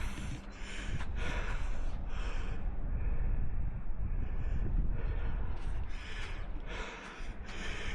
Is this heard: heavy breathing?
yes